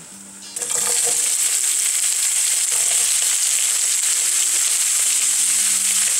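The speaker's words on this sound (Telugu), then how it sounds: "ఉల్లిపాయ పచ్చివాసన పోయేంత వరకు చక్కగా ఫ్రై చేసుకోవాలి" Onions dropped into hot oil with cumin seeds, a quiet start bursting into loud, steady frying sizzle with a few stirring clinks, no talking.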